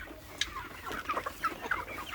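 Pet chickens cluck in short, scattered bursts while they are fed a mix of grated coconut and feed. The clucks sound soft to moderate and fairly close, with quiet gaps between them.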